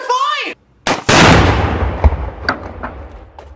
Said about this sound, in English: That was ricochet.